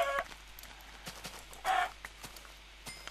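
Short chicken clucks from a video game, two brief squawks over a quiet background with faint ticking.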